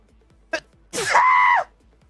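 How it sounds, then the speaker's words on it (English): A single loud sneeze comes after a short sharp intake of breath, with a drawn-out voiced burst right up close during a Tekken 8 stream, then quiet. "I just sneezed."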